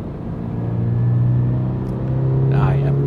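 A Toyota GR86 10th Anniversary Edition on a track, its engine droning steadily as it accelerates under power, a close, sustained rumble with rising tone, while a driver talks over it.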